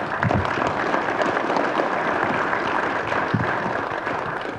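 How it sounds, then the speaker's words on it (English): Workforce program graduates and their audience fill the room with continuous, broad clapping that stays even and loud for the whole stretch. "So you guys should give yourselves a big round of applause"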